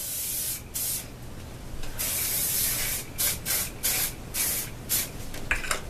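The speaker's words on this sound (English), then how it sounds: "I just want to add a little more spray" Aerosol hair spray hissing in several bursts, a long steady spray followed by short repeated puffs, close by, with no talking.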